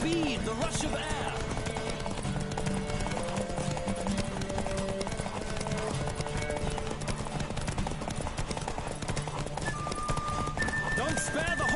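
Fast rhythmic hoofbeats of a racing horse in The Witcher 3, continuous clip-clop under game music, with a neigh and characters talking over the gallop.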